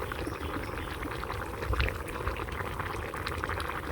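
Fish added to a boiling curry in a village kitchen: continuous close bubbling and gurgling of simmering liquid with soft splashes, steady throughout with no voices.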